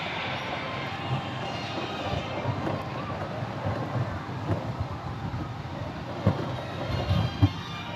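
The Dawson Duel roller coaster at Bellewaerde in motion, blue side, with a steady rumbling roar of the train on the track and wind noise, plus a couple of sharper clunks near the end.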